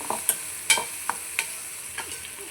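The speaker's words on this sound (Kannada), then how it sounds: "1/4 ಟೀ ಸ್ಪೂನಷ್ಟು ಅರಿಶಿನ ಪುಡಿ ಹಾಕ್ಕೊಂಡು ಫ್ರೈ ಮಾಡ್ಕೊಳ್ಳಿ" Turmeric powder is fried and stirred in a pan for a broad bean palya: a soft, continuous sizzle with a few sharp spoon scrapes and taps against the pan, close and alone.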